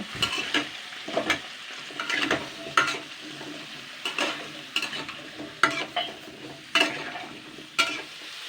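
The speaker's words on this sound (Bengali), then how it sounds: "এইগুলো দিয়ে আমি দু মিনিট মতো নাড়াচাড়া করে নেব" Drumstick, pumpkin and ridge gourd stirred in a frying pan, a soft sizzle broken by about ten rhythmic scraping strokes of a spatula, close and fairly quiet, with no talk.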